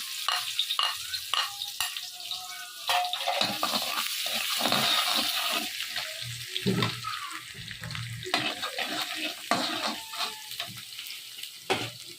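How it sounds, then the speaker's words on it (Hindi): Crackling, spitting sizzle of garlic frying in hot oil, steady and close, with occasional clinks of a utensil stirring in the pan. "तेल थोड़ा डालें, इसमें अभी ये लहसुन डालेंगे"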